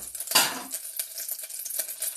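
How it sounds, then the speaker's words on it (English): Butter snaps and sizzles in a hot pan while making potatoes au gratin, with sharp scattered pops over a faint crackling bed and a brief clatter of a utensil near the start, close and fairly quiet. "That's the noisiest butter I've ever heard."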